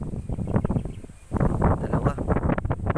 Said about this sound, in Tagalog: Sobra lakas ng hangin, no?